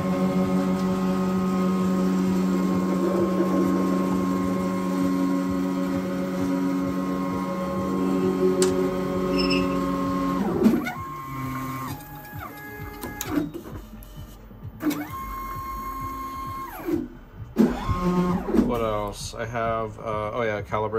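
A DIY Sharpie pen plotter runs its motors: a steady drone at first, then a series of short rising and falling stepper whirs as the pen carriage moves and returns, up close with no talk.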